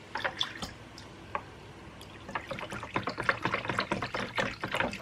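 Melted wax melt mixture with pink and red makeup colourant being poured, a close run of small liquid drips and trickles that grows busier and denser in the second half, with no talk over it.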